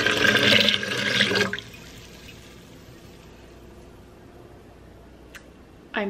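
Water pouring into a container for a one-part vinegar to three-parts water produce wash, a loud gushing stream for about a second and a half, then a quiet room with a few faint clinks.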